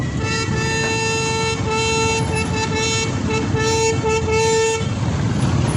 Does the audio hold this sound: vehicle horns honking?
yes